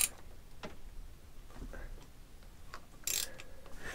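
A wrench loosens the brake disc bolts on a Rieju motorcycle, giving sparse mechanical clicks and ratcheting ticks, close and fairly quiet, with a sharper metallic burst near the end.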